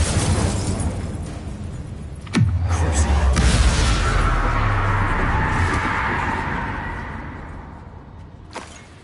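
An Incendio fire spell bursts in Hogwarts Legacy with a sudden whooshing blast followed by a roaring, crackling flame that slowly fades, with a second sharp pop near the end.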